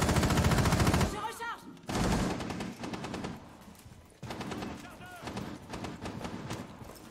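Rapid automatic gunfire in Rainbow Six Siege rattles in loud continuous bursts with brief breaks, while players talk over the shooting.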